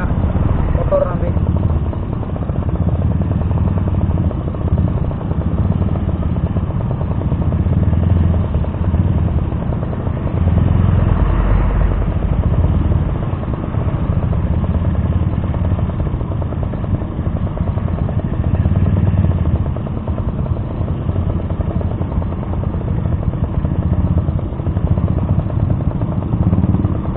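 A Suzuki RC100 motorcycle rides offroad up and down hilly dirt tracks, its small engine droning steadily and closely throughout with rumble and clatter, while a rider's voice talks over it.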